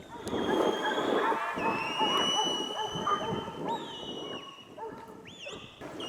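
Several dogs bark, yip and whimper in a noisy outdoor scene, with overlapping voices and high whistling tones scattered throughout.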